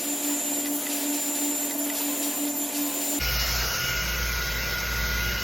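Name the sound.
Ergo Ionic and Ceramic ER33 hair dryer blowing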